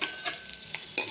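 Small onions hit hot oil in a pan, giving a crackling sizzle with stirring scrapes, a few sharper bursts and a loud splash of frying near the end, close and without talk.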